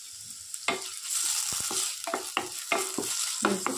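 Crushed ginger, garlic and green chilli fry in a pan with a soft sizzle, punctuated by sharp spoon clicks and scrapes against the pan, close and moderately loud.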